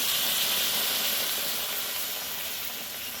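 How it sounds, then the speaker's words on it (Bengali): Water poured into a pan of fried, spiced curry masala for a pointed gourd (potol) dish gives a loud, steady steam hiss that fills the pan and slowly eases off. "এখন পানি দিয়ে দেবো ঝোলের জন্য"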